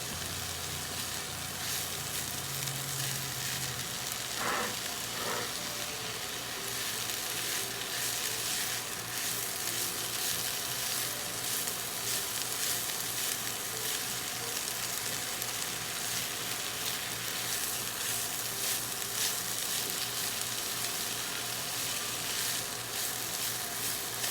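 Spinach sautéing in oil in a pan, a steady, close hiss and crackle of frying that runs without pause, with a brief clink of a utensil early on.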